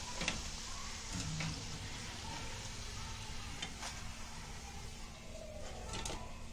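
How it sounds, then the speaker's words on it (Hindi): Mutton vadas deep-frying in hot oil for a Konkani thali, a faint, steady sizzle and crackle with a few brief clinks and stirring sounds, heard alone without talk. "उसमें डालेंगे, तेल में फ्राई करेंगे"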